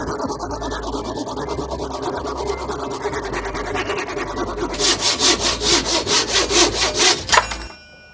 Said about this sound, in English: I sanded down the edges a bit